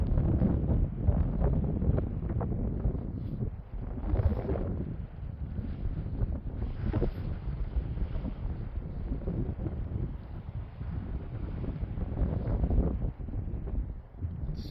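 Strong gusts buffet a microphone outdoors on open Colorado public land during a deer hunt, a loud continuous low rumble with surging, uneven pulses and no voices.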